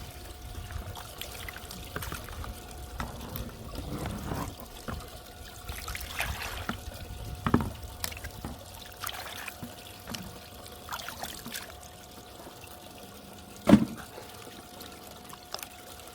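Water and gold-bearing sluice concentrate trickle and pour softly into a blue plastic gold pan during a sluice mat cleanup, a quiet, steady dribble with a few small knocks.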